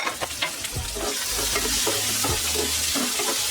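Capsicum hits a hot pan for a chicken bun filling and fries with a loud, steady sizzle under repeated stirring and scraping strokes, close by and with no talking.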